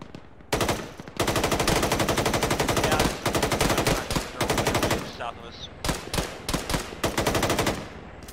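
Rapid automatic gunfire in an Arma 3 firefight, loud bursts of closely spaced shots with brief pauses between volleys, mostly in long strings with a few short gaps.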